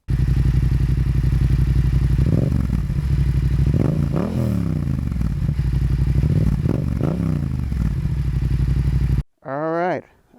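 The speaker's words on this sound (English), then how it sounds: "I have the Yoshimura exhaust and it sounds just amazing." A Yamaha MT-07 motorcycle fitted with a Yoshimura aftermarket exhaust idles with a deep throb close up, with several sharp throttle blips that rise and fall before it cuts off. A short voice follows at the end.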